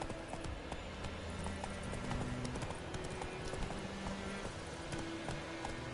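Hooves of Roach, a horse galloping in a video game, clip-clop in a steady running rhythm, close and continuous, with game music and faint background sounds underneath.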